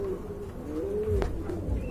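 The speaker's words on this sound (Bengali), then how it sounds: "আরেক জোড়া কবুতর দেখতে পাচ্ছেন, কোয়ালিটি ফুল, একদম টকটকে লাল গিয়ারের ড্যানিশ কবুতর" Red Danish pigeons coo softly nearby, a low rolling coo with a brief burst of louder throaty notes near the end, heard alone without talk.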